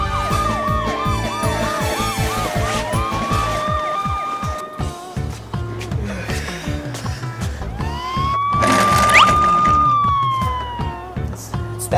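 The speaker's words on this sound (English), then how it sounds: "That siren is a fire truck siren." Wailing emergency siren from a fire truck in a busy cartoon-style scene, rising and falling in sweeping tones over rhythmic background noise and music, growing louder and nearer toward the end.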